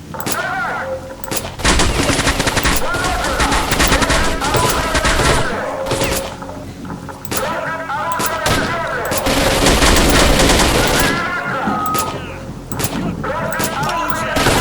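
Gunfire in the shooter game Stalker: Shadow of Chernobyl, with rapid bursts of automatic fire and repeated shots nearly throughout, loud and close, while someone talks over the action.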